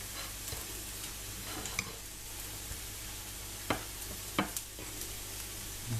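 A potato filling with coriander is stirred together, with soft scraping and a few sharp taps of a spoon against the bowl over a faint background hiss, quiet and close with no talking.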